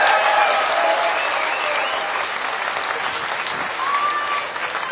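Large crowd at a political rally applauding in a loud, sustained wash of clapping with faint cheers and voices mixed in, steady throughout and easing slightly toward the end.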